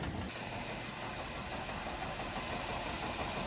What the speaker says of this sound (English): That tractor bucket filling up with feed.